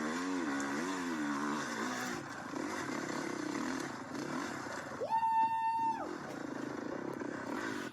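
A dirt bike engine on a hill climb, heard faintly and from a distance, revs with rising and falling pitch, then climbs sharply to a high, sustained whine for about a second.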